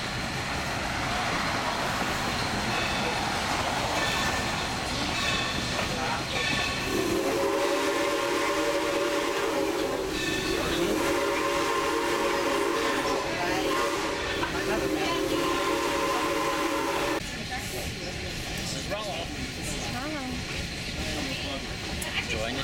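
An Essex steam train runs along beside a highway, with a steady rumble of the ride from inside a first-class parlor car, a long sustained whistle blast in the middle, and faint talk in the background.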